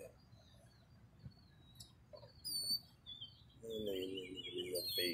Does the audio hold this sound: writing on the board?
no